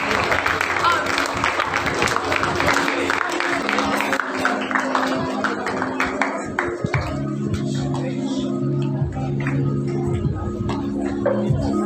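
An audience claps at a school festival prize-giving, dense applause filling the first several seconds over a steady tonal background, then thinning out as it fades.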